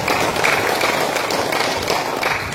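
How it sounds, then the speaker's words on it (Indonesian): Crowd applause fills the hall at an inauguration ceremony for the MIO Indonesia DPD of Belitung Regency, a dense, steady wash of clapping that holds loud and even for the whole stretch. "Boleh tepuk tangan."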